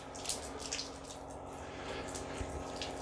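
Reverse osmosis purified water spurts from a sink faucet fed by an under-cabinet KFLOW filtration system, an uneven gushing and splashing with short surges, close by and with no talking.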